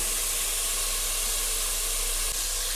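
Spices and a chickpea and green pea curry base fry in a hot pan with a steady, close sizzling hiss that holds evenly throughout, with no voices over it.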